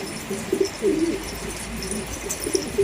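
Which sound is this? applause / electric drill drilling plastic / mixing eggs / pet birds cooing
pet birds cooing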